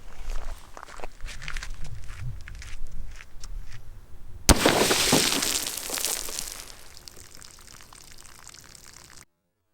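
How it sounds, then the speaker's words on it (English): Single sharp 6.5 Grendel rifle shot firing a 123 grain Hornady ELD match bullet at water jugs 200 yards out, a loud crack in the middle after quiet footstep-like shuffling, followed by a splashing wash of noise. "Gonna go back to 200 and shoot the 123 grain Hornady ELD match."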